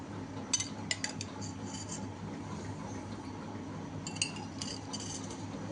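A metal spoon scrapes and clinks against a cooking pot while tengra fish curry with potato and pointed gourd is stirred, two short bursts of scraping separated by quiet kitchen background.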